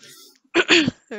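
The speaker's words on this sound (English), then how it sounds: "Oh, we kind of almost coughed in unison." Two people cough and clear their throats almost at once, a short, close burst of rough bursts followed by a brief voiced sound, with quiet talk before it.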